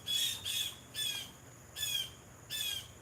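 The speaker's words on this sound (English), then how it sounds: "Blue Jays. They're going crazy." Blue jays squawking loudly and repeatedly in four harsh, raspy bursts with short pauses between, close by and alone with no talk.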